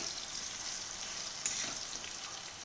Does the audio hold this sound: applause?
no